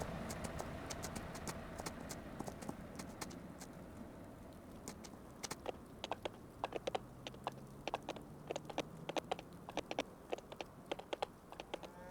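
Rapid, irregular clip-clop of horse hooves in the video game Farming Simulator 25, running steadily for the whole stretch, fairly close, over a low rumbling background.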